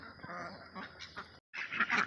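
Farm ducks of several breeds calling in short bursts of honking quacks, fairly close and moderately loud, with a brief pause before the calls resume.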